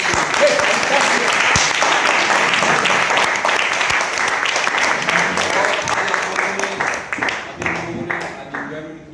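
Sustained audience applause fills a Nagpur seminar hall, dense and steady for several seconds before thinning toward the end, with a voice briefly heard over the clapping.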